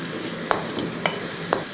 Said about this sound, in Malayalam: ഇത് നമുക്ക് വേണ്ടത് ഈ അരപ്പ് അങ്ങോട്ട് ഇട്ട് കൊടുക്കാം. അതിന് ശേഷം ഒന്ന് ഇളക്കി കൊടുത്ത്